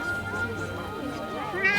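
A cat in the video game Forspoken gives a short, wavering meow over game music and ambience, heard faintly in the mix.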